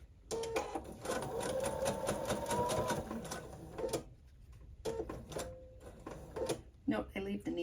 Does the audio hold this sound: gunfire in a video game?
no